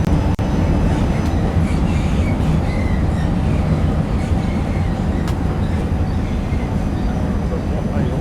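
A commuter train runs in the video game Train Sim World, a loud continuous rumble of wheels and motors with a steady low roar and occasional faint clicks over the track.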